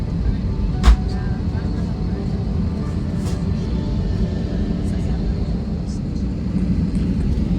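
Steady broadband roar inside a Delta airliner cabin before takeoff, with a continuous low engine and air-system hum, a brief knock near the start and faint thin tones above, close and constant with no talk.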